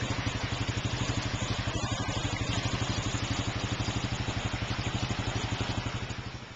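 A four-wheeler ATV engine runs with a steady throbbing pulse, close and continuous, riding along a wet, muddy trail in the rain before the sound eases slightly at the end.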